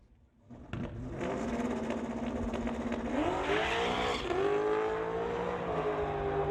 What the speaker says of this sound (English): Bobby out of Maple Ridge in the LS-powered 1989 Fox-bodied Mustang.